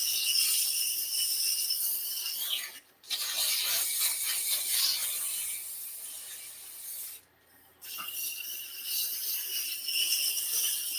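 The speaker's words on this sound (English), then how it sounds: "So I'm going to sand around the outside real quick." Hand sanding with a gold Klingspor sandpaper roll around the outside edge of a wooden craft piece, a steady close rasping rub that pauses briefly twice before continuing.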